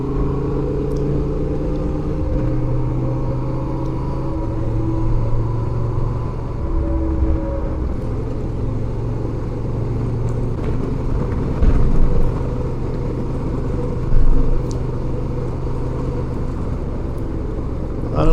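Honda Transalp motorcycle riding a loose gravel road in the canyons, with a steady engine drone and low rumble of wind and tires throughout, plus a few brief louder bumps near the end.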